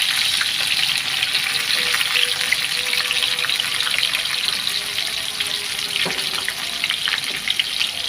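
Garlic and onions fry in hot oil with a loud, dense and continuous sizzle, close up, with faint scrapes of stirring now and then.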